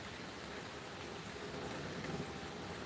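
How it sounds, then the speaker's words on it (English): Steady rain falls outside, a soft, even hiss of drops that stays constant and faint throughout, with no voices. "Yes, the sound of rain is so nice."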